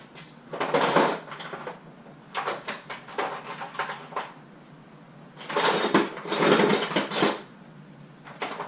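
Metal clinks and clatters in two loud bursts as flywheel bolts come off a Nissan Sentra SE-R Spec V QR25DE engine in a garage, with quieter tool rattles between them and no talk.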